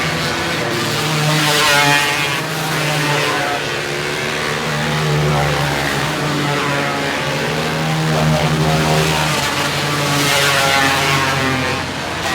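Micro sprint race cars on the final lap produce a loud, continuous engine drone that swells and fades as the cars circle the track, with no talk over it.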